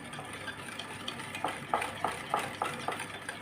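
A spoon stirs granulated sugar with ghee, egg and vanilla to dissolve it for sugar cookie dough. A quiet steady swish gives way to about six soft, rhythmic clinking strokes against the bowl.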